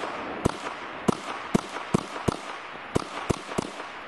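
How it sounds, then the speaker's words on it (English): Gunshots at an outdoor shooting range: a series of about nine sharp, loud reports at irregular intervals, each with a short echo, with no talk between them. "you're gonna switch it off of safe to fire when you're ready to shoot"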